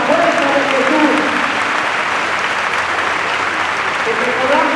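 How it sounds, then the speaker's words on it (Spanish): A church congregation at a Mass for the Virgin of Guadalupe breaks into steady, loud applause, a dense wash of clapping throughout, with faint voices and murmurs mixed underneath. "un aplauso a la Virgen"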